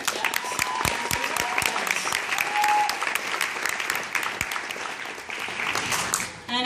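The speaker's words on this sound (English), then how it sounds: "you can applaud, sure." A high school choral concert audience applauds in a hall, a sustained crowd clapping with scattered louder individual claps and a few faint cheers, fading slightly toward the end.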